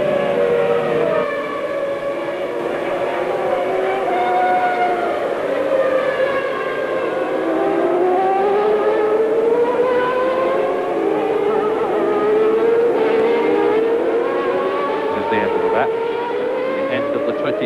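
Formula 1 cars race at the 1991 Hungarian Grand Prix, their high-revving engines screaming and whining with rising and falling pitch as they pass, loud throughout under commentary.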